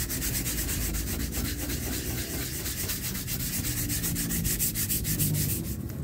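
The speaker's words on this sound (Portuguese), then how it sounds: "Chegou a hora de começar a lixar a massa." Body filler being sanded by hand on a Volkswagen T-Cross panel, producing loud, continuous, rhythmic rasping strokes close to the microphone, with no speech.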